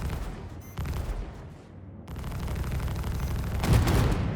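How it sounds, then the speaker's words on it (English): Weapons firing in the Star Citizen space game, a dense burst of gunfire and booms that thickens toward the end, loud and continuous with no talk. "Weapons online. Friendly fire."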